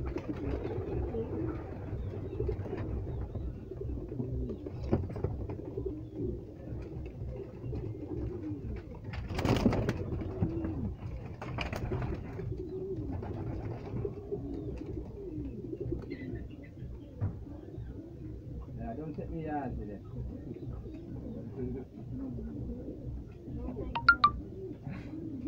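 Pigeons coo softly and continuously inside a breeding loft of racing birds, low throaty calls overlapping with occasional wing flutters and chirps, while someone talks quietly in the background.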